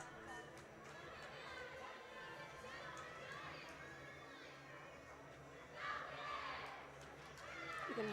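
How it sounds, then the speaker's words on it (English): A gymnastics team cheers and shouts from the background in a gym, a busy crowd-like murmur of voices with a swell of louder cheering near the end. "You can hear her team in the background cheering her on as she sets up for this dismount."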